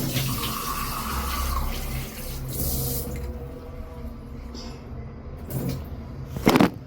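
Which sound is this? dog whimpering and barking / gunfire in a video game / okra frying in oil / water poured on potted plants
water poured on potted plants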